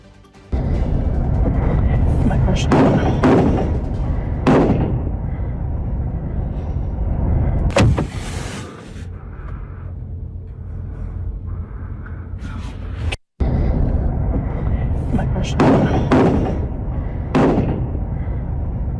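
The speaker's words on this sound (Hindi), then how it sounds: "तो फायरिंग की आवाज भी आपको सुना रहे हैं" Gunfire from a shooting at an In-N-Out Burger restaurant in Twin Falls, Idaho, with sharp, loud cracks spaced out across the stretch, some bunched closely together, heard over a constant background of noise.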